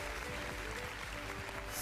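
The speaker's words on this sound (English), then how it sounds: "please give a round of virtual applause to Sister Marcelina and Brother Gregorius" Scattered virtual applause for two workshop speakers at an online trade union rights workshop, thin and steady clapping over a faint background hum.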